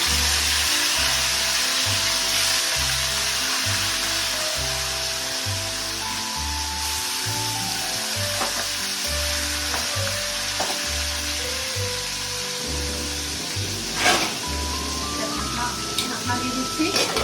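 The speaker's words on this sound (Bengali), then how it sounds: "তাহলে আমি মাছগুলো এখন তেলে দিচ্ছি।" Pieces of boal fish frying in hot oil for a fish curry with curd: a loud, steady sizzle with crackling pops throughout, over a rhythmic low backing.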